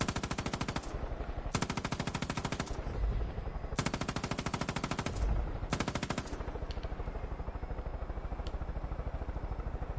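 Rapid bursts of automatic machine gun fire in the video game Far Cry 5, loud and continuous, stopping and restarting in several long strings with dense rattling under a steady background.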